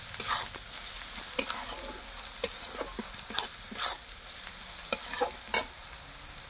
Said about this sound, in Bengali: এবার একটু দিয়ে দেবো, দিয়ে ভালো করে নাড়বো।